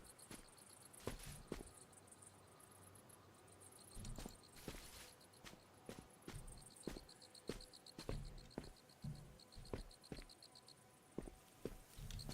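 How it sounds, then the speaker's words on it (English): Crickets chirp steadily in a video game's ambient soundscape, a continuous high-pitched trill interrupted by sharp clicks and soft tapping noises throughout. "Now I have the crickets in my ears."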